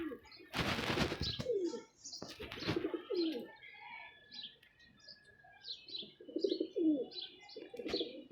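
A pigeon held by its keeper coos in repeated low throaty phrases, with loud scuffing bursts near the start, likely from wings or handling, then softer coos alongside brief higher chirps.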